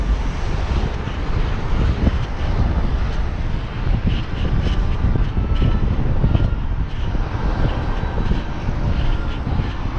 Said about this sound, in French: Et le vent est ignoble.